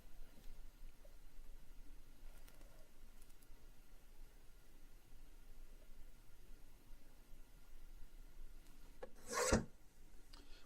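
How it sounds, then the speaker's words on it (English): A paper cutter trims the edges of a sheet of Neenah Techni-Print transfer paper in a quiet room, giving one short, sharp rasping slice near the end. "So I'll bring it over here and I'm going to trim it on a cutter that we have."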